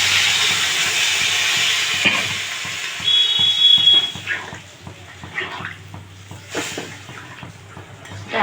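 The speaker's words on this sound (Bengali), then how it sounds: "যে মুসুরির ডালটা বেটেছিলাম ওই বাটিতেই জলটা নিয়ে রেখেছি ওই জলটা দিয়ে দিচ্ছি" Water from a bowl that held ground lentil paste is poured into a hot cooking pan, giving a loud sizzling, steaming hiss that fades into softer bubbling and crackling over several seconds.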